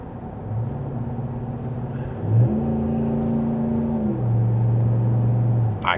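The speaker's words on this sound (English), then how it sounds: "I could listen to this V8 all day long." A 2026 RAM 1500 pickup's Hemi V8 drones steadily from inside the cabin while driving, its low engine note rising in pitch through a gear and settling back, with no talking over it.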